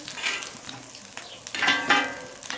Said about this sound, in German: Er macht uns hier jetzt so schön die Rührei in die Schale rein.